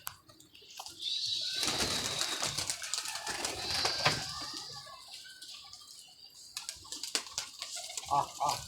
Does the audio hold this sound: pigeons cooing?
yes